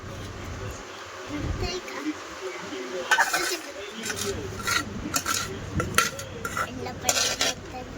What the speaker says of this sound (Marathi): छान आता मिक्स करून घेऊया सगळं लोणचं व्यवस्थित.